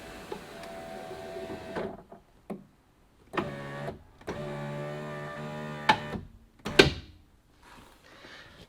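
The electric window regulator motor on a Fiat 500 whines in several separate runs as it drives the side window, each a steady, close mechanical hum ending with a clunk, with quiet gaps between.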